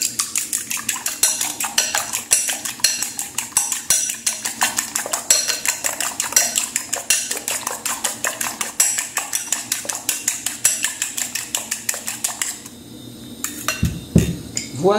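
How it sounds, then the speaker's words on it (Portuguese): An egg being beaten in a bowl with a utensil for skillet cornmeal bread, a steady rapid clatter of metal against the bowl that runs for about twelve seconds before stopping, with a few scattered knocks afterward. "Vou dar uma misturadinha aqui."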